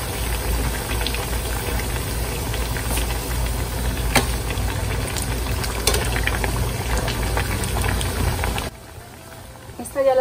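Potato and tuna patties fry in hot oil with a dense, continuous bubbling sizzle and occasional pops. The sizzle stays loud and steady, then drops away sharply near the end.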